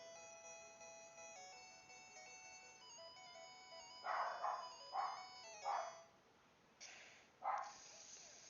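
A dog barks in the background during Pokemon game play: several short, mid-loud barks in a quick cluster, then two more, over steady chiptune game music.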